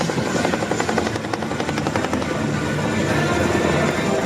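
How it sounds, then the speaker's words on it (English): An Apache attack helicopter flies close by, its rotor beating in a steady rapid chop over a loud, constant engine roar. "The Apache attack helicopter moves into position to maintain air cover over the battle zone."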